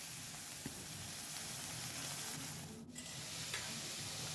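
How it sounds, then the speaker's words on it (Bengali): Salted, turmeric-coated fish fries in oil in a wok, giving a steady close hiss of sizzling with a few faint clicks and a brief dip partway through. "এবার মাছগুলো ভেজে নেব।"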